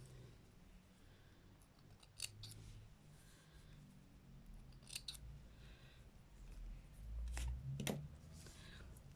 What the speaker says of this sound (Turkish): Bu da kesip götürürəm.